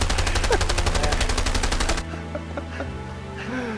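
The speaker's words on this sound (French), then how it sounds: "Je sais pas si t'as entendu la rafale infinie là" Rapid unbroken automatic gunfire from a video game weapon stuck in an endless burst, loud and steady for about two seconds before cutting off abruptly to quieter game sounds.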